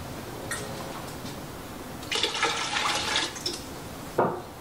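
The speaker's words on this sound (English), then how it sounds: "Now I'm going to do 5 cups of water." Five cups of water are poured into a pot in a kitchen during a pepper-preserving session, a few seconds of splashing and gurgling flow rising in bursts, fairly faint and without talk.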